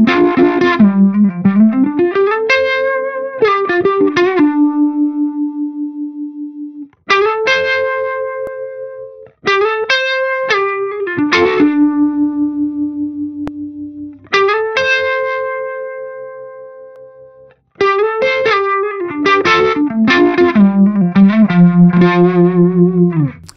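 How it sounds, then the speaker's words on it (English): Axe-Fx III harmonic tremolo set to a steep crossover slope gives clean guitar notes and chords a swirling, phaser-like pulsing, in separate phrases that ring out and decay between pauses. "you can hear that it sounds like it's kind of got a phaser thing going on there because of the way it is designed"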